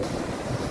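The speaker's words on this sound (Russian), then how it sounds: "По-моему, волны меньше стали немножко." A low, continuous wash of surf and wind roars over the ocean, steady and broadband with no distinct breaks.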